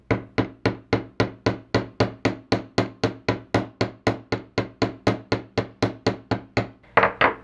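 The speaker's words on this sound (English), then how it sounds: "I'm just going to paddle that a little bit more" A hammer flattens the end of jewelry wire for wire-wrapped heart earrings, about two dozen sharp, close taps in a quick, even rhythm, with no talking.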